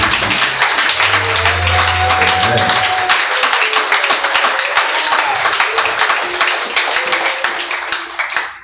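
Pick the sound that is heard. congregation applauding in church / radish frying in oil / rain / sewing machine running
congregation applauding in church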